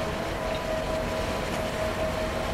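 A long train hauled by a double-headed ÖBB 1044 electric locomotive pair rolls along in the Transport Fever 2 game, a continuous mid-level rumble with a faint steady tone and no voices.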